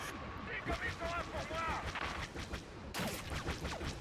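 Turret fire in the video game Star Wars Battlefront, heavy blasts booming steadily over a constant dense din of battle, with a voice talking underneath.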